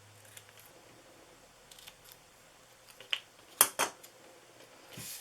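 Scissors cut paper into small strips for a birthday treat box, a few soft snips building to two or three sharper, louder cuts near the end, close up with no talk.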